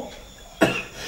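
A single sharp cough bursts out against a quiet background, brief and fairly close.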